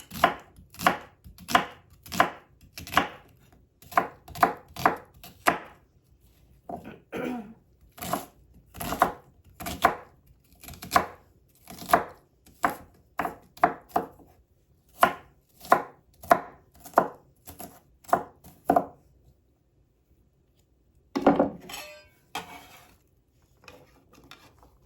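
A knife dicing onion on a cutting board for freezer meal prep: crisp, evenly paced chops in quick runs with short pauses, close and clear with no talk.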